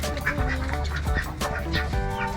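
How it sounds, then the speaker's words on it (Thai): A group of ducks on rice paddy fields quack loudly and repeatedly close by, overlapping honks in an irregular chorus. "มีเป็ด เป็ดอยู่นี่"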